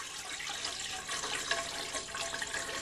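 Lukewarm water runs from a kitchen tap in a steady, moderately quiet hiss and splash, with no talk.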